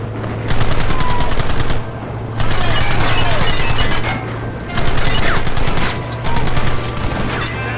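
Rapid bursts of gunfire from the video game Red Dead Redemption, loud volleys of shots in several clustered waves with brief lulls between them, heard alone.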